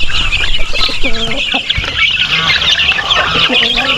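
A large flock of chicks and chickens on a farm, clucking and cheeping continuously and close by, with a speaking voice mixed in.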